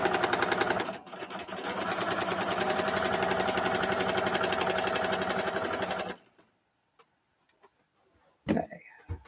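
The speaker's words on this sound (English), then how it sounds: "I think my sewing machine needs some oil." A sewing machine in need of oil runs loudly and steadily for about six seconds with a fast mechanical rattle, then stops, followed by a few faint clicks and a brief knock.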